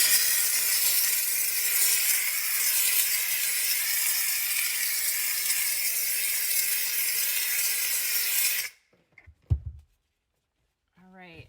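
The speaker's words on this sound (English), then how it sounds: "and then I grab my steamer" Steam cleaner hisses loudly and continuously while working over a car interior surface, then cuts off abruptly, followed by a few brief handling sounds.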